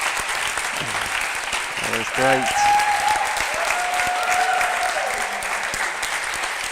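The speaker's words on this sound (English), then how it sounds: "We're all clapping here in the room" Audience applause in a squash club room after a finals match, dense steady clapping filling the room while people talk over it nearby.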